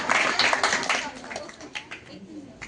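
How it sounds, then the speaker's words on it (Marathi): An audience claps for a quiz team at a Constitution Day quiz, a short burst of clapping close by that fades away within a couple of seconds while people talk over it. "टाळ्या वाजवा."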